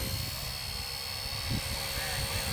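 A Wltoys XK170 Blackhawk RC helicopter flying outdoors on a breezy day, its steady high-pitched motor and rotor whine droning continuously and fairly loud, with wind noise.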